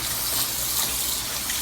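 Water gushes steadily from a tap into a cooking pot being filled for boiling pasta, a continuous close, loud rushing stream with no voices.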